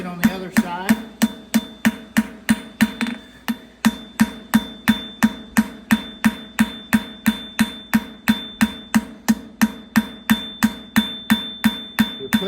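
A farrier hammers a steel horseshoe on an anvil to bevel it, a long steady run of sharp, ringing metallic strikes at an even rhythm, close and loud.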